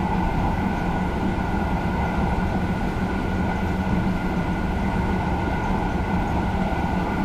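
A train in the Train Simulator Classic game rolls steadily through a station, a loud, continuous rumble with droning engine tones and rail noise, unbroken for the whole stretch with no talk.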